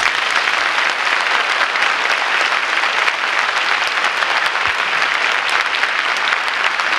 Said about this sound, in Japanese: まずはここにいる皆さんにまた大きな拍手をお願いします。